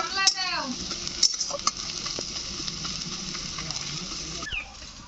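Onions frying crisp in a pan for a greens and dried-shrimp dish, stirred with a utensil: a steady, fairly loud sizzle under a few sharp scraping and clinking strokes early on, then continuous hissing.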